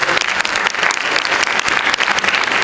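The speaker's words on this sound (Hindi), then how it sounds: "एक बार जोरदार आचार्य जी के लिए फिर से ताली बजा दें" Students and faculty at a Ganpati Mahotsav gathering give Acharya ji a loud round of applause, a dense, steady wash of many hands clapping close by with no voices on top, lasting the whole stretch.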